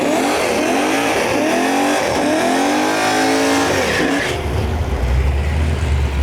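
A Cutlass and a Jimmy rev hard at a drag strip during a Canada Day cash event. Loud, close engine roar climbs and falls in repeated rising sweeps, then shifts to a deep heavy rumble near the end.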